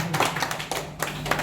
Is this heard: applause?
yes